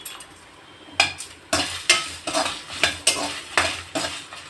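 A spatula scrapes and tosses coriander seeds, cardamom, black pepper and cloves as they dry-roast in a pan for chicken masala curry, giving a rhythmic series of about eight sharp stirring strokes with a light rattling sizzle.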